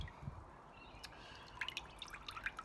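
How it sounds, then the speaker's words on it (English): Faint, scattered water drips from a paper pulp mould patter softly at close range, a few light plinks in quick succession over quiet background hiss. "So you can tip it and let it drip out."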